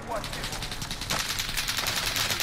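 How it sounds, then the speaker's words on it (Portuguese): Rapid gunfire from the video game Call of Duty: Modern Warfare, dense bursts rattling continuously across the moment at steady loudness, with shots seeming to come from several directions. "Tá dando tiro de tudo quanto é lado"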